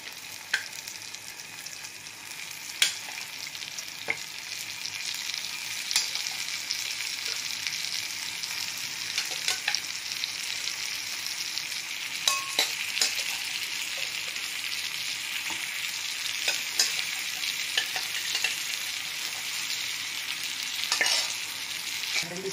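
Liver sizzles and fries steadily in a pan of non-veg gravy for a tasty Tamil-style dish, with occasional scraping stirs. The sound is continuous and close, with no talking.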